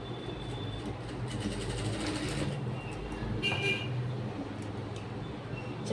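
A sewing machine stitches a side zip into a blouse, its needle rattling in quick, even bursts of running stitches. The sound is faint and close, with short pauses between runs and no talking.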